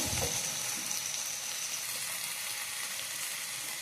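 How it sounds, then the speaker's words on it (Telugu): Tomatoes for mint chutney cook in a pan with a little water, giving a steady, soft, continuous sizzle and bubbling hiss with no talking. "ఈ టమాటాలు బాగా మగ్గాలండి"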